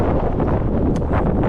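Strong gusty wind buffeting the microphone on a lake during a windy spring fishing trip in Wisconsin, a loud continuous roar filling the short moment with no talk.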